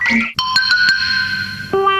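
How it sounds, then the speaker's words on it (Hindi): An animated cartoon pager gives a series of electronic beeps, steady tones broken by short pulses and pitch changes, loud and close with no talk over it. "ये एक पेजर है"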